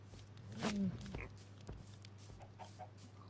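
Minecraft chickens in a savanna world give a short cluck near the start, followed by faint scattered clucks and footsteps, quiet over a low steady hum.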